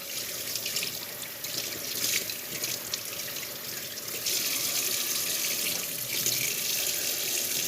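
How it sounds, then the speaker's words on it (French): Tap water runs steadily into a sink to rinse out the inside of a gutted whiting, a continuous close splashing hiss that stays loud throughout with no talking. "on vient rincer tout l'intérieur du poisson"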